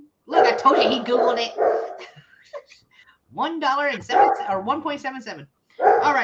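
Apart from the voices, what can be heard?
dog barking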